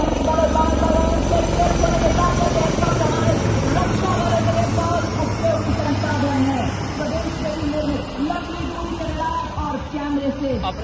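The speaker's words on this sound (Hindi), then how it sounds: "अपना ध्यान बाईं तरफ देकर देख सकते हैं उन्नत फ्लाइट हेलीकॉप्टर" Advanced Light Helicopter flying over a Republic Day parade rehearsal, a loud steady rotor drone with rhythmic blade chop holding throughout, heard under continuous commentary from a voice.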